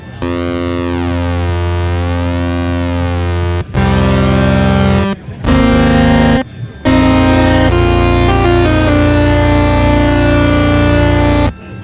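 A thick, rich tone from a NINA 12-voice analog polysynth sounds loudly in several sustained notes with short gaps between them, its harmonics swirling and shifting.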